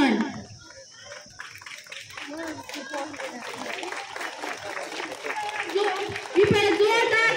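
Applause breaks out at a school building inauguration in Dhankuta, Nepal, scattered at first and swelling into fuller clapping toward the end, with voices talking over it.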